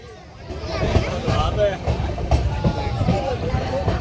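Amrit Bharat train rolling out after leaving Farakka Junction, a low steady rumble and rattle of carriages with some clickety-clack, under nearby chatter of passengers.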